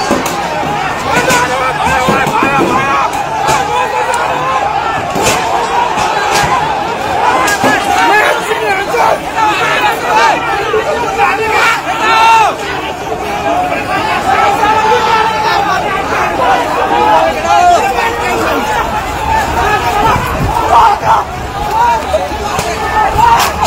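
Gen Z protesters in Nepal, gathered outside an ousted prime minister's house, create a loud, dense crowd din of overlapping voices and shouts that runs without pause, close and busy throughout.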